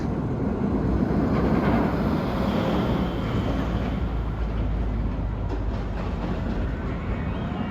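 The Mindbender roller coaster at Six Flags Over Georgia, on a test run with a partly built new train, rolls slowly along its track with a steady, continuous rumble and rattle, fairly close, with no voices.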